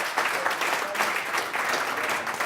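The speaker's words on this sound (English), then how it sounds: "let's give a really great applause to Nick Pinkston" Audience applause for a guest speaker, Nick Pinkston, at a talk on hardware: steady dense clapping fills the room throughout, loud and continuous without a break.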